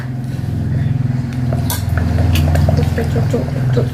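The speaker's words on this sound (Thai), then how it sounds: "เอาใส่น้ำปลาร้าก่อน" Fermented fish sauce poured into a bowl of Thai papaya salad makes a steady liquid trickle, with light clinks of utensils against dishes and a low hum underneath.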